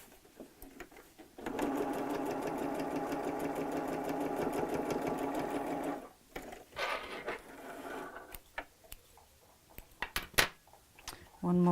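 Sewing machine stitching overlapping layers of fabric to make fabric roses, a loud steady whirring run for about four seconds, then shorter bursts and clicks among quieter handling noises.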